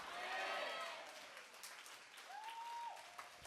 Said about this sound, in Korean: 제가 이 인이어를 두 군데 다 끼고 있어가지고 박수 소리가 좀 작게 들리는 거죠